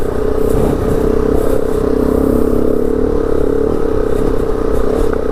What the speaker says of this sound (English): I think third gear is probably just a little too much